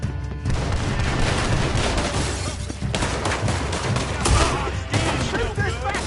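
Loud, dense gunfire in Red Dead Redemption 2, a chaotic burst of repeated shots and booms over several seconds amid shouting voices.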